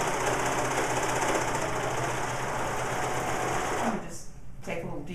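A serger sewing machine stitches and trims fabric in a loud, fast, continuous mechanical whir, close up, slowing and stopping near the end while a voice talks over it.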